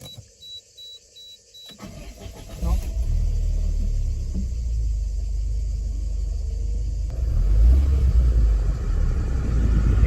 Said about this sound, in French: Allons-y pour le démarrage